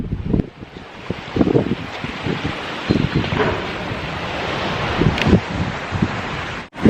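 Gusty wind buffets the microphone outdoors at the Royalton Negril resort in Jamaica, with a constant roar and rustling surges. Low, muffled voices sit underneath.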